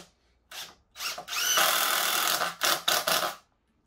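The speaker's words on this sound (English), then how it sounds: "let's just drive these in, keep the wood nice and clamped together." A power drill drives screws into clamped wood for a DIY power rack build, loud close bursts of whirring that start, stop and restart with brief pauses.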